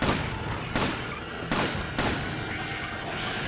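Gunshots in Resident Evil 5 co-op play, four heavy, booming shots spaced about half a second apart, each followed by a short decaying rumble, with no talking.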